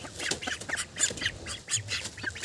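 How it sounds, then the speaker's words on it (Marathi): Ducks at a village farmyard quack in a rapid, overlapping flurry of harsh squawks, close and fairly loud, with no one speaking. "हे बघा आपली बदकं"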